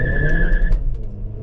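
A 2019 Kia Optima SXL with an open differential launches hard from a stop in first gear, its front tires squealing loudly in a sustained screech over engine roar before the squeal cuts off and the engine continues.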